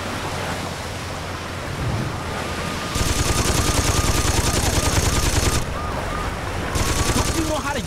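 Machine gun fire in the video game Saints Row 2, loud sustained automatic bursts that intensify partway through, stop briefly, then resume, over a steady noisy background.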